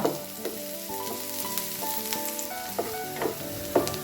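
Onion, green chili and ginger sautéing in a pan for tomato coconut chutney: a faint steady sizzle with occasional spatula scrapes and taps, and a soft tonal hum in the background.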